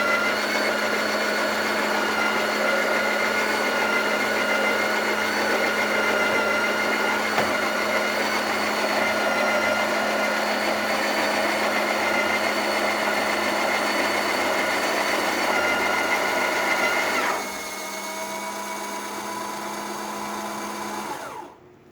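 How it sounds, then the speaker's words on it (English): A Breville Oracle Touch espresso machine's built-in grinder grinds coffee after a full tune-up: a loud, steady, high whirring motor drone runs for about seventeen seconds, then drops to a softer whir before stopping. No one speaks. "as you can see, grinder working great"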